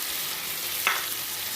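Mutton fat frying in oil with spiced masala of Kashmiri chilli powder, turmeric and salt, a steady broadband sizzle with one brief brighter crackle midway, no voices.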